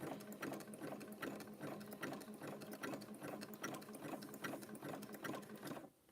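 Sewing machine zigzag stitching through rope to form a 4-inch rope coaster, a steady rapid needle rhythm running close and loud, then stopping abruptly at the end.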